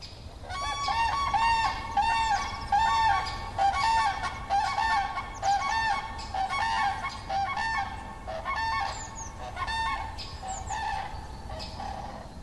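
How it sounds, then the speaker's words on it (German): A pair of common cranes calls in spring at a wetland fen in the Grunewald forest, loud trumpeting honks repeating steadily throughout, with no talk. "Ein Kranichpärchen."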